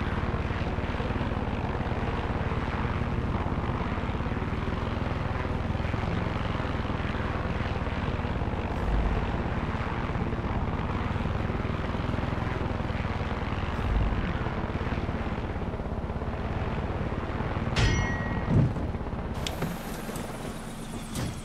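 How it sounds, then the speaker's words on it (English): A plane engine drones continuously in the video game Far Cry 6, a steady, full propeller roar that holds at an even level throughout, with a few brief clicks near the end. "Free plane."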